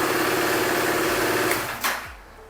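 KTM RC 390 sports bike engine just started with the electric self-starter, a buzzing steady idle that cuts out near the end with a short clunk, no voices.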